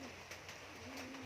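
A racing pigeon named Black Beauty at its loft after a derby lap in Munoz, Isabela, giving soft low cooing near at hand over steady outdoor background noise.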